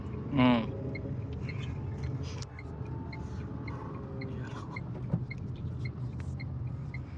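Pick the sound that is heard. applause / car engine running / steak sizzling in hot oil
car engine running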